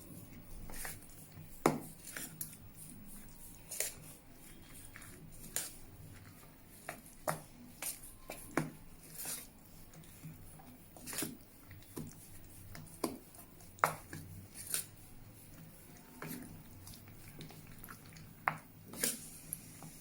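Mung lentil batter being mixed with chopped vegetables in a bowl, heard as quiet, irregular wet squishes and soft taps of a spoon against the bowl, repeating unevenly for twenty seconds without talk.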